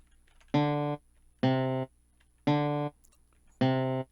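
Four separate tones on an electronic keyboard, starting on C and stepping up to D a major second above, each struck note sustaining briefly before a short gap, clear and alone.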